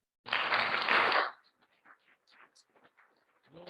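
A short, loud burst of hand clapping lasts about a second, then gives way to quiet, sparse sounds and faint voices.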